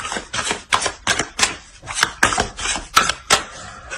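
Tarot cards handled during a horoscope reading, a quick run of about a dozen crisp, sharp snaps and slaps as cards are laid down one after another at an uneven, brisk pace, close and clear with no talk.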